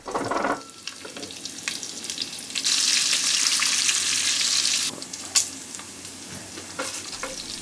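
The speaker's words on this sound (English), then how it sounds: "In the same pot, add the bacon, cook on medium to medium-low heat until brown and the fat starts to render out" Bacon sizzles in a pot over medium to medium-low heat, a steady loud frying hiss that swells in the middle and carries a few clicks and stirring scrapes near the end.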